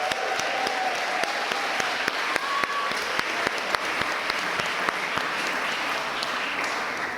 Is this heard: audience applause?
yes